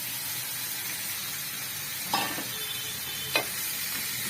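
Chicken and tomatoes go into a hot karahi for a Peshawari chicken karahi, a steady low sizzle broken by two brief sharp clatters of stirring.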